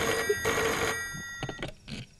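A telephone bell rings in bursts of bright, metallic trilling, loud and close, with short gaps between rings and quieter clicks toward the end.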